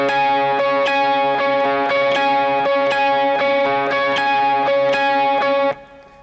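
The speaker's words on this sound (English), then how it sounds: "Without delay, it sounds like this" An overdriven electric guitar plays a lead line dry with no delay, a loud, close, even run of repeated picked notes that stops abruptly near the end.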